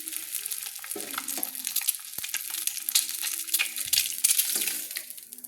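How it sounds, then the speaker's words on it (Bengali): Eggs sizzle in mustard oil in a kadai, a close, bright crackling fry with irregular spatters and occasional scraping or stirring clinks, continuous throughout without talk. "এবার আমি ডিমগুলো ভেজে নিচ্ছি।"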